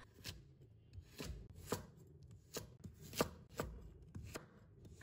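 A peeled carrot being diced with a knife on a cutting board, sharp close chops in an uneven rhythm, about ten distinct strikes, quiet and with no voices.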